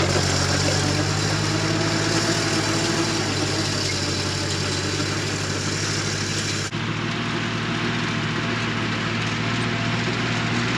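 A farm tractor's engine idling steadily outdoors, a continuous low rumbling drone at fairly close range with no change in pace, briefly interrupted by a click partway through.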